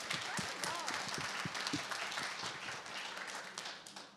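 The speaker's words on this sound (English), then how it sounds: "let's clap for that" An audience at a talk on women's health in midlife claps, a fairly faint spatter of applause that slowly fades, with voices talking over it.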